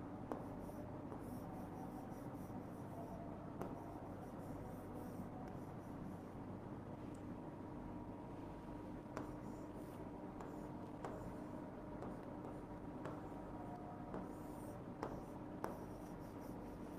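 A pen scratches across paper in a Class 9 general mathematics lesson on real numbers, a steady, quiet, continuous scribbling with small irregular strokes and no talking.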